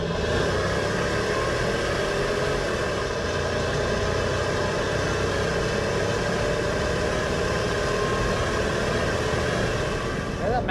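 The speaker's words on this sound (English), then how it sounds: "that Magnuson sounds good. It's got a good whine to it" Magnuson-supercharged 6.0 engine in a 2003 Hummer H2 on a test drive, a steady, loud drone with a sustained whine riding over the engine rumble, constant throughout.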